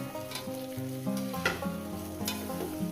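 Fish curry masala sizzles in a pan while being stirred, a steady close frying hiss with periodic scraping strokes, set against faint background music.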